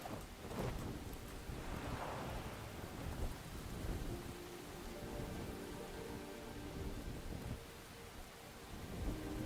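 Steady rain with rolling thunder in the game Enshrouded, a soft, continuous wash of rainfall with a couple of low rumbles early on.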